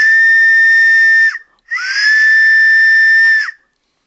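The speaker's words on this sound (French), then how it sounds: "Ce sifflet, à titre d'exemple, a été acheté chez JMC. Et vous allez l'entendre, il fonctionne aussi à l'air," A steam-style train whistle bought from JMC and blown with air gives two long, loud, steady shrill blasts with a short gap between them, each ending abruptly.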